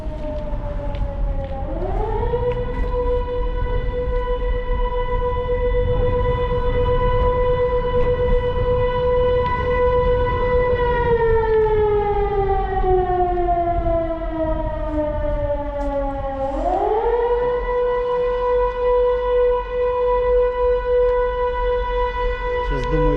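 A loud, sustained civil defense air raid siren wails continuously in Poltava, its pitch sliding down and rising back up in long sweeps over steady background rumble.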